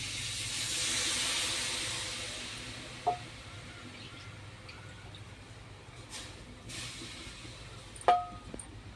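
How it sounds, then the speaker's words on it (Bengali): Bowl-rinsing water poured into a hot wok holding small mourala fish and broken onion: a steady hiss of steam that swells, then settles into a quieter sizzle, with a couple of faint clinks later. "ওই বাটি ধোয়া পানিটা দিয়ে দেবো।"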